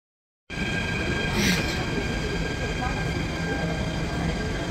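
Steady rumble of a train riding along and pulling away, continuous rolling noise with a brief brighter swell early on, close and fairly loud with no talk.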